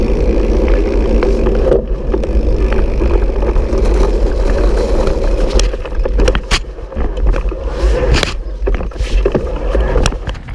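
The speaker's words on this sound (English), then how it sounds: "it does produce a little bit more noise than some of the other bikes. Bosch is just that way." Bosch motor on a Lapierre Overvolt AM 70TH Carbon electric mountain bike, a steady loud whirring drone under riding noise, turning rougher and more broken later with bumps and rattles from the trail.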